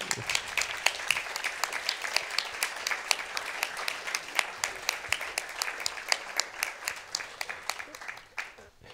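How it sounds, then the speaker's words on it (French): A crowd applauds steadily at a masterclass at the Centre Pompidou, many hands clapping in a dense, sustained burst that tapers off toward the end. "on les applaudit"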